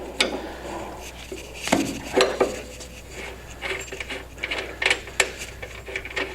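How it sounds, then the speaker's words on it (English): Metal wrenches clink and ratchet on bolts while a Mustang steering kit is loosened, with irregular sharp taps and clicks, close by and moderately loud over a low hum. "now we're going to take our wrenches,"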